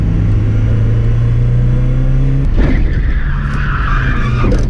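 A car with a welded differential runs off the track, a loud steady engine drone giving way to a sudden burst of skidding and rough scrubbing noise in the final seconds.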